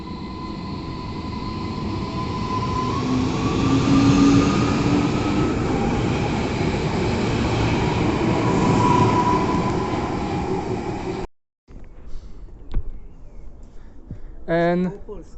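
A passenger train rumbles past at length in Tarnów, Poland, with a squealing wheel tone, then the noise cuts off and faint clattering and a brief voice follow.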